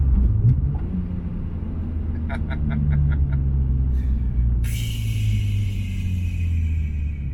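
Supercharged BMW E46 M3 with an Active Autowerke kit, over 400 hp, rumbling steadily nearby, with a brief higher burst near the end.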